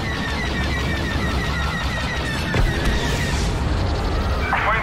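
Starfighter laser cannons firing during a space dogfight in Star Wars Battlefront II, rapid repeated shots and a boom over a loud engine roar and game effects.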